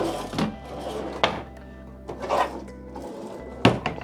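Deep storage drawers in an Aqua Class balcony cruise cabin slide open and shut, giving four scraping glides with soft wooden thunks at close range in a quiet room.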